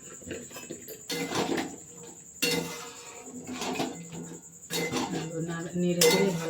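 Boiled peas and potatoes go into a pot of spiced oil for vegetarian ghugni and are stirred with a metal spoon, giving repeated clanks and scrapes against the pot in several bursts.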